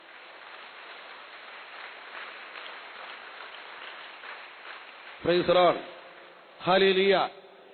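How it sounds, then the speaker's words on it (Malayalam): A church congregation claps hands in praise to the Lord during prayer, a steady patter of many hands lasting several seconds, then a voice speaks over the fading applause. "ഒന്ന് കൈയുയർത്തി കൈയടിച്ച് കർത്താവിനെ മഹത്വപ്പെടുത്തുന്നു"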